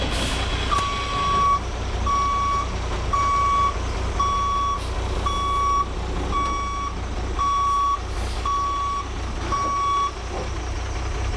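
A Class B truck backing up while parallel parking between cones sounds a steady series of reversing beeps, about ten evenly spaced tones over a continuous engine rumble and outdoor background noise.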